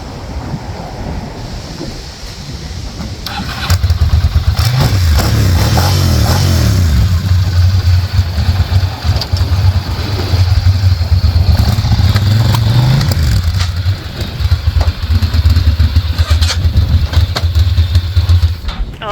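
A customised Ducati motorcycle engine cranks and catches about four seconds in, then settles into a loud, steady idle with a deep throbbing rumble that swells briefly around the middle before evening out again.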